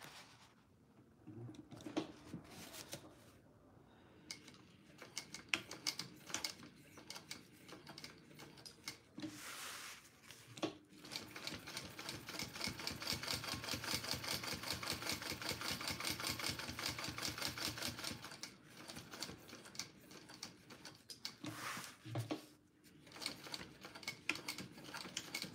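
Domestic sewing machine stitching fabric in long mechanical runs, a steady rapid whir-clatter that starts and stops several times, close and fairly quiet, with pauses for handling between bursts.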